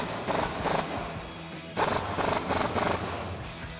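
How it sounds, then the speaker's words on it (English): A socket wrench ratchets while tightening nuts with a 17mm socket on a coil-over install on a 2014-2018 Silverado 1500. Two close bursts of rapid clicking are separated by a short pause. "we'll take our 17mm socket and wrench to tighten those down."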